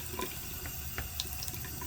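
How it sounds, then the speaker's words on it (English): Hot tap water runs steadily over a metal piece being patinated with liver of sulfur, a continuous close splashing hiss into a sink with no talk. "So I'm just running some hot water over it."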